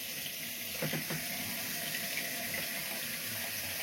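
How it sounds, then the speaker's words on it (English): Hot water runs steadily from the bathroom tap of an Elddis Avante 454 caravan, a constant hissing flow with a few brief bumps near the start and no talking. "Yeah, I've got hot water coming through there."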